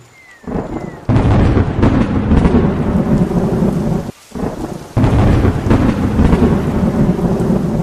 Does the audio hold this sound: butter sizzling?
no